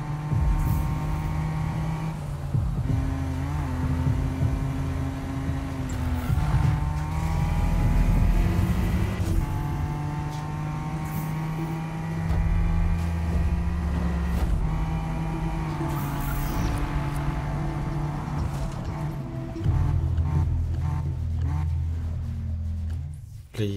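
A fast car drives in a Need for Speed racing video game, its engine droning loudly and steadily, with rising and falling pitch through gear changes and acceleration and a brief drop near the end.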